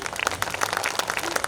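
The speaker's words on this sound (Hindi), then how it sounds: "उन दोनों के लिए आपकी तालियां चाहता हूँ।" Applause from the audience at a Hindi kavi sammelan poetry gathering, a quiet, brisk patter of many hands clapping for a short moment, heard alone without talk.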